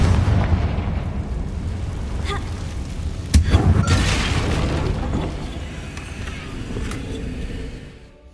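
A Confringo spell explosion in Hogwarts Legacy, one sharp boom partway through that rolls off into a rumbling tail over continuous low background noise.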